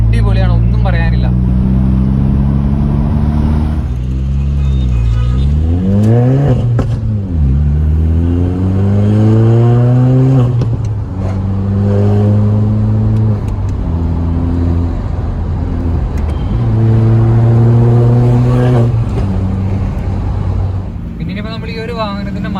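A stage 2 remapped Skoda Laura 1.8 TSI tuned to 220 bhp pulls hard through several gears from inside the cabin, engine note rising loud and steady then dropping at each shift, repeating across the run.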